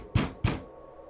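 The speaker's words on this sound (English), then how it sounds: "Then I heard a series of knocks," Two heavy, forceful knocks on a door at night, close and loud, with a short gap between them, followed by quiet.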